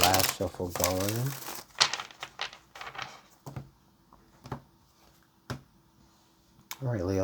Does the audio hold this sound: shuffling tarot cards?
yes